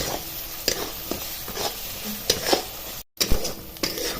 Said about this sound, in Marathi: अजून एक दोन मिनिटं तरी परतवायला लागेल